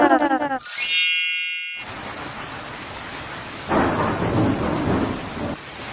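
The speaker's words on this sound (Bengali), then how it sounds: "বাইরে কি জোরে জোরে বিদ্যুৎ চমকাচ্ছে" Cartoon thunderstorm: a bright metallic ding gives way to a loud crack of thunder, followed by steady heavy rain that swells again toward the end, with no one speaking.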